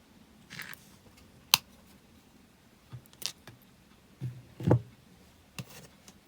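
Metal wire for a wire-wrap pendant is snipped with cutters in a few sharp, isolated clicks and small handling noises, close and quiet with pauses between.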